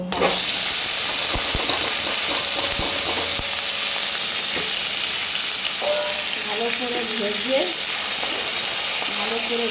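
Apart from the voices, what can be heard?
frying raw banana peel and dried chilies in oil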